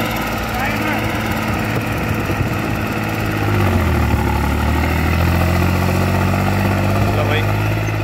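A tractor engine runs steadily during harrow testing on a field, a low, rumbling drone that holds constant and deepens slightly partway through.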